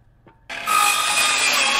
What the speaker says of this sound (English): As we are cutting and installing this siding